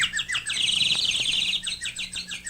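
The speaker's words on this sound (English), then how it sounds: "He came to a beautiful garden and heard a bird singing." A small bird sings in a garden, with bright, rapid chirping phrases that repeat in quick bursts, fairly close and clear, with no talk.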